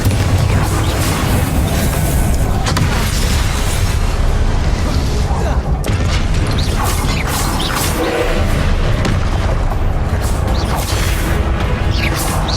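Continuous loud spell combat in Hogwarts Legacy, with Confringo blasts erupting in repeated booms and crashes over a constant heavy rumble and scattered sharp pops.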